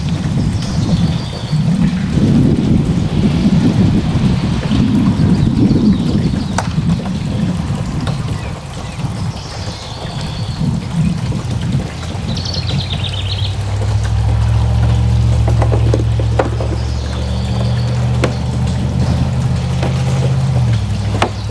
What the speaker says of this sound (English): Get some water in the bottom of the tank.